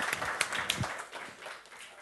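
Audience applause for a seminar panel at a hearing on the creative economy: a short burst of clapping from a room of listeners, with a few sharper individual claps standing out before it thins.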